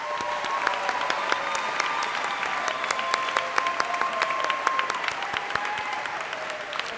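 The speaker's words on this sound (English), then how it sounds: "Give them a round of applause." Audience applause at a high school convocation honoring AP Scholars, a steady sustained roar of many hands clapping in a large hall, moderately loud throughout with some crowd murmur beneath.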